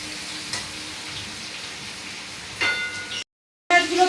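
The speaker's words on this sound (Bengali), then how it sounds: "চিংড়ি মাছগুলো খুব বেশি ভাজবো না হালকা ভেজে নেবো" Prawns fry lightly in oil with a soft, steady sizzle that swells louder near the end, broken by a brief silent gap before the frying resumes.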